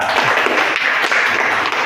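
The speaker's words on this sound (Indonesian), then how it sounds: "Tepuk tangan untuk pemenang kedua" Dense, continuous applause from an audience for a second-place prize winner, a loud, even wash of many hands clapping close by without clear gaps.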